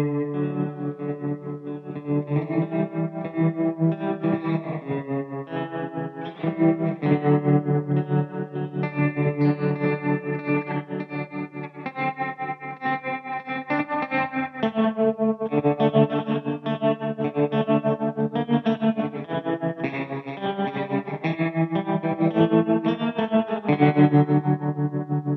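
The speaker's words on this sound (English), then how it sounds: "with the spring, we can use this moderate to get a tremolo effect out of it, which adds very interesting retro sound" A guitar played through a pedal's spring reverb with tremolo gives a warm, pulsing, retro tone, with sustained chords and notes rippling steadily for about twenty-five seconds, no talking.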